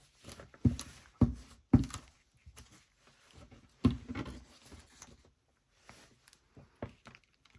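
Scissors snipping a small edge off a paper flip-out envelope, heard as a few short, close crisp cuts in quick succession followed by lighter paper rustling and handling.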